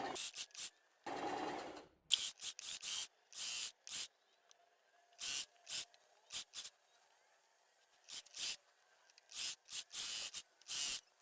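A domestic sewing machine stitches a seam around the waistband of elastic-waist trousers, running in repeated short bursts with pauses between them. It sounds close and fairly quiet.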